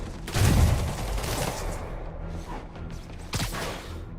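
Gunfire rattles through a combat scene in Marvel's Spider-Man Remastered, a loud dense burst at the start followed by continuous battle noise and another sharp volley near the end.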